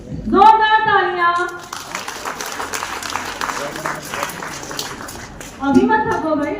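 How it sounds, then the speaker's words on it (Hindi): Loud, dense clapping from a crowd at a school farewell party, filling several seconds between spoken announcements at the start and end. "जोरदार तालियां।"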